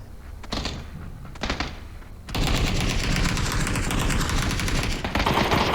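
Gunfire in the PUBG battle royale game: rapid automatic bursts start in short broken volleys, then swell into a loud, sustained, continuous barrage of shots for the remaining seconds.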